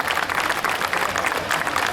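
Steady, dense clapping from an audience at a high achievers ceremony, applauding children without pause throughout.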